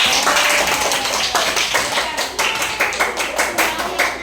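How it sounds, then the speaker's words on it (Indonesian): Students clap in a classroom after a presentation, a quick, bright run of separate hand claps, close and lively, with small groups of hands falling into loose rhythm. "Kasih tepuk tangan lah."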